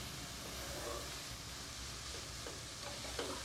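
Vegetables for vegetable fried rice fry in an uncovered pan, making a faint, steady sizzling hiss with a few soft stirring scrapes.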